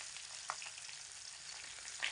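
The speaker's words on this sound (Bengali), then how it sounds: "বারবার উল্টে পাল্টে দিয়ে মাছগুলোকে ভেজে নিয়েছি" Pieces of sea fish (bhola) fry in a pan, a soft steady sizzle with a couple of brief crackles and a small clatter, fairly quiet and with no talk.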